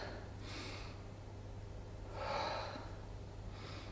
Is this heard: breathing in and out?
yes